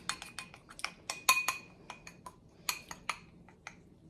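A spoon clinks repeatedly against a bowl while white chocolate is stirred, producing quick, bright irregular taps that are close and fairly quiet.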